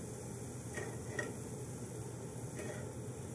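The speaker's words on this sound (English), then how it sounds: "These shallots were minced really fine, so they're not going to take that long to caramelize." Finely minced shallots and mushrooms cooking in a pan, a soft low sizzle with a few faint clinks and stirring scrapes, fairly quiet and with no voices.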